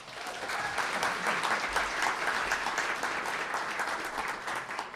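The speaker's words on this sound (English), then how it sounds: "One more round of applause." Sustained applause from an audience at a city and county state-of-the-city event, a dense steady wash of clapping that holds at an even level throughout.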